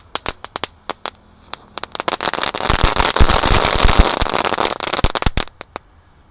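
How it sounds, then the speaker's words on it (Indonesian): Two packs of dino egg firecrackers go off together on a night festival celebration, beginning with scattered sharp pops that build into a dense, loud crackling burst and then thin out to a few last bangs. "Selanjutnya ini ada mercon telur dino atau pretekan. Kita nyalakan dua pak sekaligus guys."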